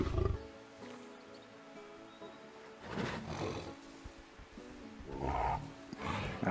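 A tiger in the Planet Zoo game gives a few deep, rumbling roars and growls that swell in bursts, close and loud over soft ambient music, with no talking.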